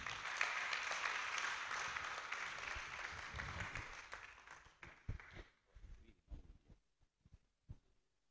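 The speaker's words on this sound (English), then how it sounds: "merci encore sous vos applaudissements à Habib" Applause from an audience, steady and sustained at first, then thinning out into scattered individual claps before fading.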